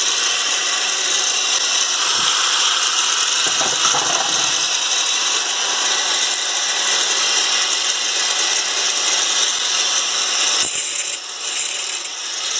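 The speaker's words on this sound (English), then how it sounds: "And now we can grind. I'm grinding." A grinder runs continuously and loudly on metal during a car restoration, a harsh steady hiss and whine with a few brief knocks, close to the microphone.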